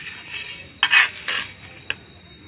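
Potting soil mixed with dry leaves for planting a money plant cutting, heard as close scraping and rustling strokes with a few sharp scoops and a short tap, no voices.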